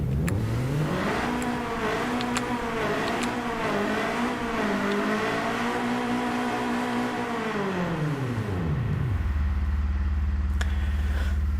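In a racing video game, a modified 1992 Honda EG6 with a 1.6L conversion and AWD revs hard on a dyno. The engine note climbs and holds steadily, then drops abruptly to a low idle hum.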